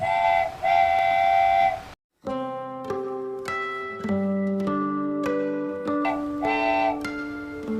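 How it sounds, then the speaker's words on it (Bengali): A train pulls into a station in an animated Bengali film, its whistle sounding in several sustained harmonic blasts and shorter toots, loud and close, with a brief silent gap between calls. "কথা বলতে বলতে তখনই ট্রেনটাও অবশেষে চলে আসলো।"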